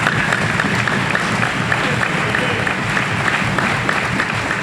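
A crowd at a Congolese trade union gathering applauds and cheers in a dense, steady wash of clapping that holds loud and even throughout.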